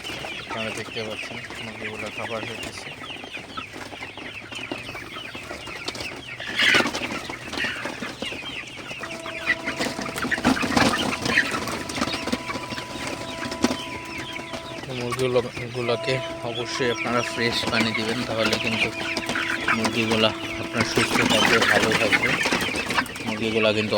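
Golden super hybrid chickens cluck and murmur softly while feeding in a coop at night, a steady flock chatter close by, with someone talking over them.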